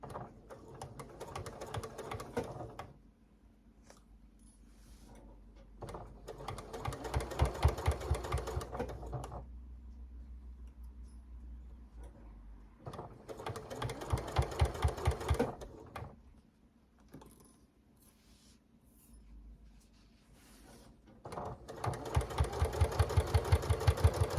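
A sewing machine stitches slowly around a pot holder in several separate runs of steady whirring, with quiet pauses in between while pins are pulled out.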